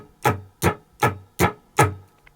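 A guitar strums two chords in an even, straight rhythm: five regularly spaced strokes, each a crisp attack that quickly fades, moderately loud with no voices.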